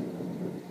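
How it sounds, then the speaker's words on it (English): Thunder from a major thunder and lightning storm rumbles steadily as a low, continuous roll, moderately loud and without a break, heard alone with no voices. "We've got a major thunder and lightning storm going on right now."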